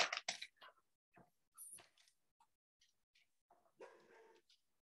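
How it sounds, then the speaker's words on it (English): A puppy barks in a string of sharp, high yips and short barks, some close together and others spaced out, loud and near, with whimpery bits between them and no talking. "my puppy's barking right now"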